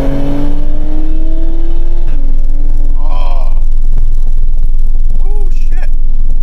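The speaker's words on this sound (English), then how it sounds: "Ooh, it downshifted. I don't know if you guys heard it, but the exhaust definitely got louder." A 2020 Toyota Supra's exhaust swells louder after a downshift, a steady engine drone with a pitch drop near the two-second mark, heard close with a voice talking over it.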